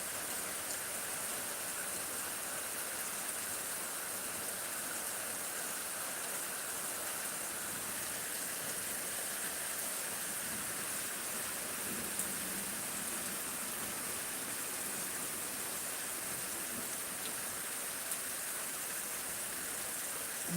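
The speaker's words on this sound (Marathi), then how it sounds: "पाऊस पडलेला एक तास झालं पाऊस पडला आणि अजून पण शेतकरी मित्रांनो पावसाचा जोर वाढलाय" Steady heavy rain over farmland, a dense, even hiss of falling water that holds unchanged from start to finish with no voices and only faint isolated drips standing out.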